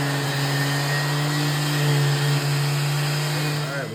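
Wood sander running continuously with a shop vac pulling dust through a bucket-style dust collector, a steady motor hum and whine that holds at a loud, even level throughout, with no talking.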